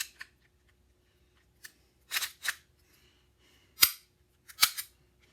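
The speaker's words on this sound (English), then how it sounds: "Put it back on your gun." Plastic clicks and snaps from an airsoft Makarov pistol slide being fitted back onto the frame, several short sharp knocks spaced irregularly, close and clear with no talking.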